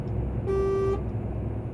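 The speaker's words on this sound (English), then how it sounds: "Sounds like a van horn." A short single toot of a truck horn in a trucking video game, with a thin, van-like tone lasting about half a second over a steady engine rumble.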